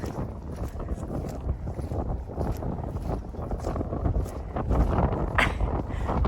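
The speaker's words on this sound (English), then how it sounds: "It's very windy, so I don't know if you can hear me well." Loud, constant wind buffets the microphone with rumbling, gusty roar throughout, with no talking.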